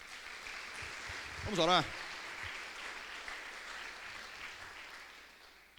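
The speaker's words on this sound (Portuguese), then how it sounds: "As palmas para ele." Applause fills a church service in a steady, moderately distant wash of clapping from the congregation, with a brief spoken phrase rising over it.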